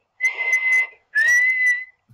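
A human voice imitates a guard blowing a whistle: two shrill, sustained whistle-like tones, each just under a second, separated by a brief pause, close and clear with no other sound.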